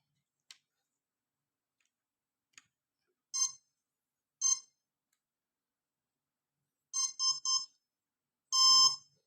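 A few faint clicks, then short electronic ready beeps from a HotRC DS-4A RC transmitter in a sparse pattern: two single tones, a quick triple, and one longer final beep.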